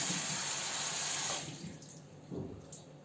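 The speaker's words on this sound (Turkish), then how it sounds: "Ellerimi de yıkayayım." Hands washed under a running kitchen tap, a steady hiss of flowing water that softens partway through, followed by splashes as the hands move under the stream.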